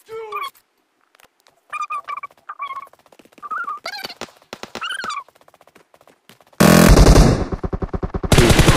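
Gunfire in PUBG Mobile comes as a sudden loud, dense burst near the end, after stretches of chatter, with a brief pause before the firing resumes.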